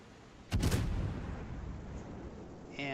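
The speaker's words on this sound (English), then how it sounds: "He fires his rear turret." Warship rear turret firing in the World of Warships naval battle game: a single heavy, booming gun blast that opens loud and rolls into a long, low rumbling decay.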